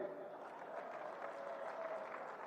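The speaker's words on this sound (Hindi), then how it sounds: "जोर से ताली बजाओ भाई भूमिका के लिए" Crowd at an Amit Shah election rally in Bareilly clapping steadily, a dense, sustained wash of applause with voices mixed in throughout.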